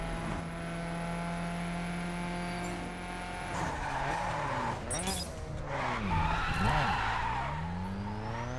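Car tires squealing as it skids and drifts around a street circuit in The Crew racing game, a sustained engine drone under long, sweeping screeches.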